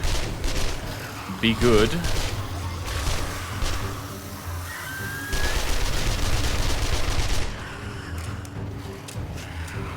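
Gunfire in the 7 Days to Die video game, a few sharp shots and bursts scattered across a noisy game soundscape, with someone talking over parts of it.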